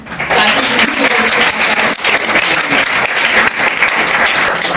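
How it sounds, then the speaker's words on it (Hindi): A crowd at a Teacher's Day celebration in a computer class gives loud, sustained applause for the teachers. Dense clapping runs without a break for the full stretch. "उनके लिए भी एक बार जोरदार ताली बनता है"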